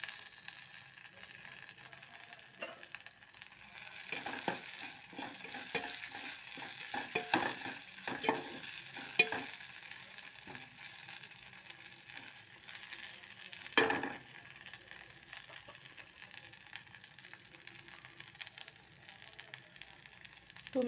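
Curry leaves, ginger and garlic fry in a pan for a Telugu fenugreek-leaf tomato dal, giving a steady close sizzle with scattered crackles and pops and occasional stirring scrapes, without talk.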